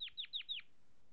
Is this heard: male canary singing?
yes